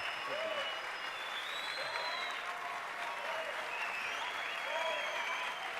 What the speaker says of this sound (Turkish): Ayakta alkışlıyorlar.